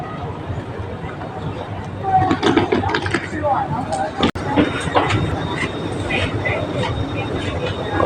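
A Singapore MRT metro train rolls into the station with mechanical clanks and whirring, a rising rumble under scattered voices, then a steady hum as it settles.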